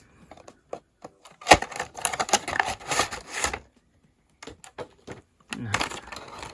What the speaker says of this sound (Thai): เดี๋ยวเรามาแกะดูกันก่อนนะครับ